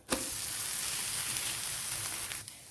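Neer dosa sizzling steadily in a hot pan with coconut oil, a close, continuous crackling hiss with a small bump near the start as it is flipped, no voices.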